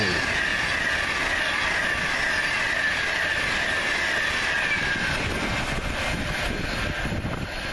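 A London Euston to Glasgow Central passenger train passes through Rugeley Trent Valley station, a loud continuous roar of wheels and rushing air with a high metallic ring that fades as the train goes by.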